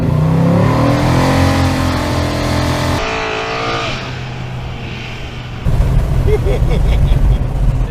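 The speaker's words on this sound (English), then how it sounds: "It does good burnouts." A classic muscle car does a burnout on a paved rural road, its engine revving hard over a loud roar with tire squeal and gritty noise rising near the end.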